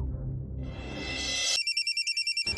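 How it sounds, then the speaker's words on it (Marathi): A telephone rings with rapid repeating electronic trills in a home setting, a short burst of pulsed beeping that follows a brief rise in background sound. "आला फोन."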